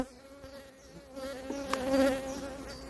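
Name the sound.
honey bees buzzing around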